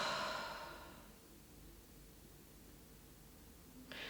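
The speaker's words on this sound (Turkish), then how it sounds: "Ve ağızdan boşalt." A slow, deep exhale through the mouth during a beginner yoga breathing exercise, a soft breathy rush that fades out over about a second, followed by near silence.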